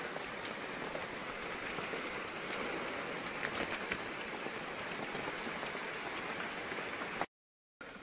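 Steady rain pours down around a hut during the rainy season on a trip hunting eels, a dense continuous hiss of drops drumming on surfaces, close and even throughout, cutting out briefly near the end before resuming.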